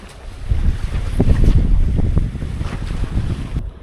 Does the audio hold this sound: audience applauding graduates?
no